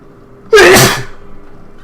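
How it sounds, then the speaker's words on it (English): A single loud, close sneeze bursts out after a quiet moment and fades into low background hum. "I have to sneeze."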